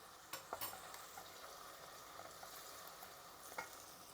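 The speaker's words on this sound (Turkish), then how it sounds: "Onu da kavuralım güzelce." Tomato paste sautéing in a home pan gives a steady soft sizzle with a few sharper stirring scrapes, fairly quiet and close, with no talking.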